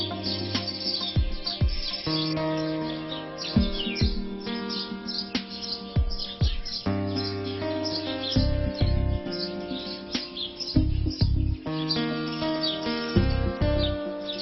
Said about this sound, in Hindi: गौरैया की ये चहचहाहट,